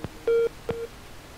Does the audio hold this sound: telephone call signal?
yes